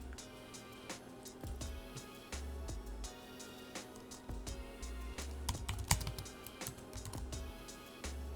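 Computer keyboard typing in quick bursts of close, crisp key clicks with short pauses, entering a search for roofer leads in Los Angeles, with no talking.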